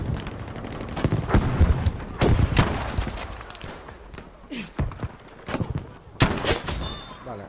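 Gunfire in the shooter game Battlefield V, sharp bursts of shots in irregular clusters, some loud and close, others softer, with footsteps and faint breathing between them.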